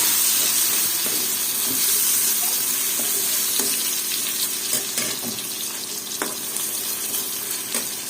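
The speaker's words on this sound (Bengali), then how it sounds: "আমার শুটকিটা তেলে ভাজা হয়ে গেছে খুব সুন্দর একটা গ্রান আসছে তো এখন আমি দিয়ে দিব এর মধ্যে পেঁয়াজ" Dried fish frying in hot oil as onions go into the pan, a steady loud sizzle broken by sharp clinks and scrapes of stirring.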